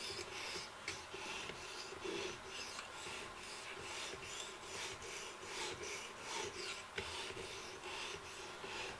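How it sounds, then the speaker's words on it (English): Steady rasping strokes of a knife drawn across a 220 grit sharpener, repeating in an even back-and-forth rhythm at close range, with no voices over it. "And then we're just going to start giving it the old sharpen."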